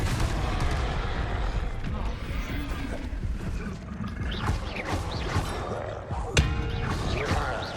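Repeated Confringo blast spells go off in combat in the Hogwarts Legacy video game, heavy booming explosions and crashes layered over a continuous roar, with a sharp bang near the end.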